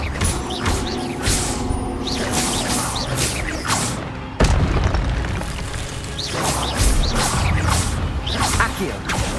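Spell effects in the video game Hogwarts Legacy: loud whooshes, booming impacts and crackling bursts follow one another continuously in a dense, busy mix.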